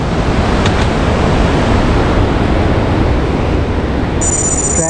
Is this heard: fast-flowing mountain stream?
yes